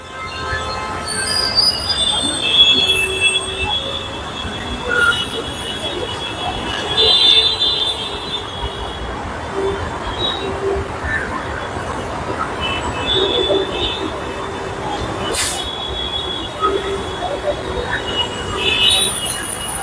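A metro train's wheels squeal steadily against the rails at Saki Naka metro station, loud and close, with rumbling carriage noise and faint voices mixed in throughout.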